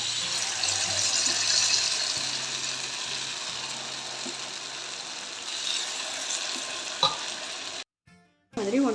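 Sweet potato adai paniyaram batter fries in a paniyaram pan, giving off a soft continuous sizzle with a few light clicks and knocks, then a brief silent gap near the end.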